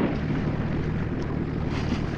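A sailboat's engine runs at 900 rpm with the propeller at minimum pitch, a loud, steady low rumble with broad noisy wash that holds constant throughout.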